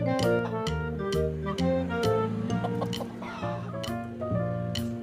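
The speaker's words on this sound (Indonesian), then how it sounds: "ini ayam." A chicken clucks repeatedly at close range in a steady, busy run of short calls, fairly loud and with no clear speech over it.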